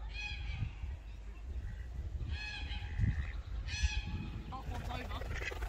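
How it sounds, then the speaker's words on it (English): A duck calls at Bowland Wild Boar Park with three separate honking cries spaced a second or two apart over a low outdoor background. "Oh, the duck's coming over."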